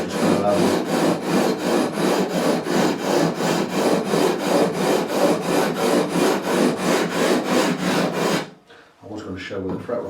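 Guitar frets on an Epiphone AJ220 neck are levelled with 240-grit abrasive on a precision-ground flat beam, giving rapid, rhythmic back-and-forth rasping strokes about twice per second. The strokes stop abruptly near the end and a few quieter scrapes follow.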